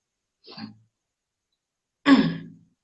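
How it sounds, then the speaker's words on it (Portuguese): Two short throat clearings from a speaker at a prayer service, separated by a pause, the second louder and rougher, with silence around them. "eu tenho um pigarrozinho aqui na garganta"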